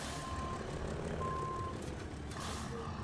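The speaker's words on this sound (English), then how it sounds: "let's jump in the old Kenworth and give this beast a run" A Kenworth truck in SnowRunner sounds steady, evenly spaced reversing beeps over a constant low engine rumble, close and unbroken, with no voices.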